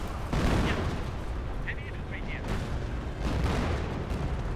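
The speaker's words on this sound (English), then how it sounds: "Mortar firing away from the high ground." Mortar and artillery rounds in Company of Heroes boom continuously in a dense, rumbling battlefield barrage, loud and sustained, with several distinct blasts rising out of the din.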